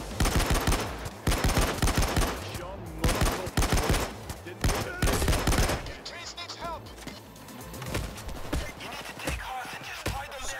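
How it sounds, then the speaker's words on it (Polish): Heavy gunfire in the video game Payday 2, dense bursts of automatic shots and rapid volleys that come in loud waves and then thin out into a quieter scattering of shots. "Skąd ktoś tu tak strzela?"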